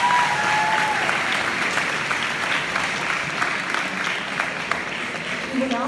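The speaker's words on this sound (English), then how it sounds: "Please give a big round of applause for our fall athletes." Applause from a school sports banquet audience honouring fall athletes, a broad continuous clapping crowd heard at moderate distance, with a few voices and faint chatter mixed under the steady patter.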